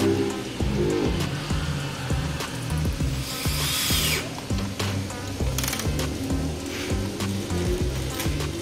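Power drill driving screws upward into wooden ceiling slats inside a Volare A6 bus conversion, a steady whirring motor with repeated short bursts close by, no talk.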